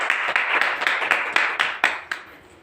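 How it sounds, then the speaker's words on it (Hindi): Audience claps after a Saraswati Vandana recital at a Hindi literary evening: about ten distinct, fairly close claps in a steady, slightly uneven rhythm that taper off at the end. "आपके लिए एक बार जोरदार ताली बजनी चाहिए"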